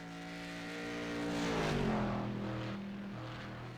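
A Corvette GT1 race car engine in the iRacing sim drones past with a steady harmonic whine, swelling louder and dropping in pitch as it passes, then fading back to a hum.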